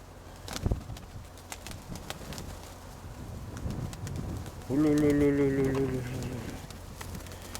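A domestic pigeon gives a drawn-out, throaty coo close by at a pigeon loft, with other faint bird sounds and a voice speaking in the background.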